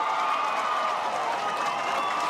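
Crowd at a women's grassroots soccer grand final (Dodges Ferry Sharks) applauding and cheering after a goal: a steady wash of clapping and shouting, dense and continuous, with a voice talking over it.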